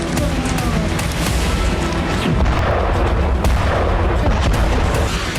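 Loud, repeated explosions and booming blasts from Russian strikes on Dnipro, heavy and close, with sharp cracks scattered through a dense rumble.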